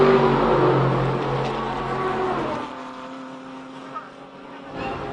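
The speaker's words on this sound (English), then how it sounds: "And right behind him, the second of the big Express Freight Porsches, that is Andrew Calvert." Express Freight Porsche race cars battle closely during an SA Endurance Series race, their engines a loud, steady roar that eases and fades partway through, heard under a commentator's voice.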